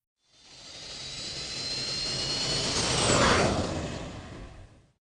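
Jet engines of an airliner roar during takeoff, swelling from quiet to a loud peak around the middle before fading away, with a rising whine on top and no voices.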